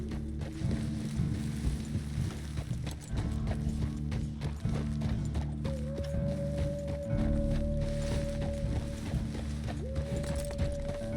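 Horse hooves clip-clopping at a steady gait in Red Dead Redemption 2, rhythmic repeated hoofbeats under ambient game sound, with a sustained musical tone entering partway through.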